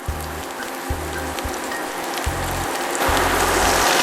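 Zucchini sizzles and crackles steadily in a hot pot, a dense close frying hiss that swells louder near the end, with a low hum pulsing underneath.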